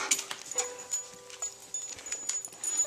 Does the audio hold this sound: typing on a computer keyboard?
no